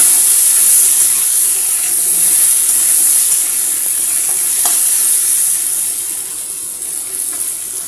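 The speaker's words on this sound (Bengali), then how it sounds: "আলুটা তো ভালো মতো ভেজে নেব" Potato pieces fry in a pan of hot oil for an Indian cooking recipe, giving a steady, loud sizzling hiss with faint stirring scrapes throughout and no talking.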